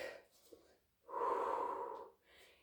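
A single strong, breathy exhale during a pilates exercise, close and forceful for about a second, set between quieter breaths and a short spoken instruction.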